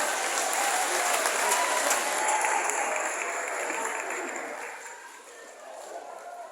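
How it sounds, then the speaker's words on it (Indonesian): Audience applause at a youth gathering, a broad wash of crowd clapping that stays dense and fairly loud, then eases slightly toward the end. "Tepuk tangan untuk kita semua."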